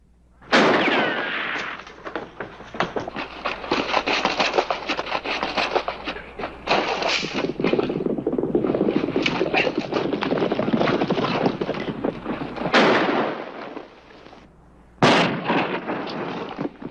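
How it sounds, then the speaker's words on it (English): A shootout in a western movie, with dense rapid gunfire and bursts of impacts over a busy soundtrack, then a pause before two final loud shots. "He shot at the right man this time."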